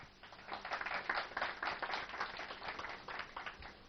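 Audience clapping at a Vastu Shastra talk, a faint, uneven patter of hands that swells and fades over a few seconds with no talking.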